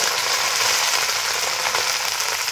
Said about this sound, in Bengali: গাইজ এবারে কিন্তু ভাত দেওয়া হবে, যে দেখো ভাত দেওয়া হচ্ছে